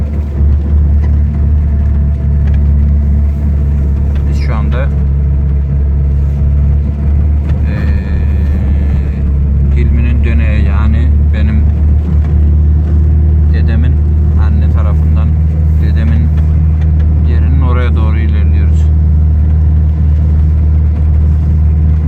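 A car driving along a rural village road toward Şimşirli village, its engine giving a steady, close, low rumble throughout with occasional brighter noises from the cabin or road.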